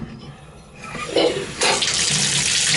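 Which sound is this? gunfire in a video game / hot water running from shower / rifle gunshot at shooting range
hot water running from shower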